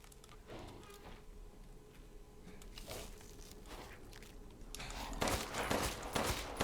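Gunfire in the video game Resident Evil Village: a series of muffled shots and impacts over a dark ambient background, growing denser and louder toward the end.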